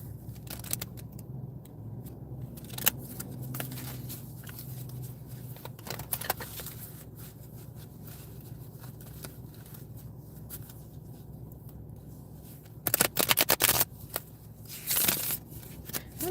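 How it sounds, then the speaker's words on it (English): A large deck of tarot-style reading cards shuffled by hand, with soft repeated riffling and sliding, then sharper bursts of card snaps near the end, close and quiet with no talking. "I don't know why they make these decks bigger than my hands. Like, I can barely shuffle these."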